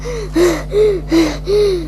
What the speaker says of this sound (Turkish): Ay nefes nefese kaldım ya